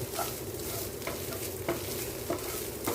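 Broccoli with pepper frying in a pan, cooking toward a brown pepper broccoli fry: a steady close sizzle with a few light stirring clinks, no talk.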